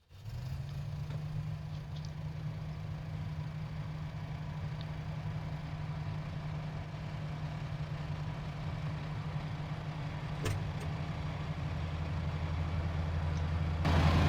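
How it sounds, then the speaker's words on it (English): Tractor engine idling steadily in a farming game during pig feed harvest work, a low, constant drone that grows slightly louder and rougher toward the end, with no talk. "Just while the engine's warming up a little bit"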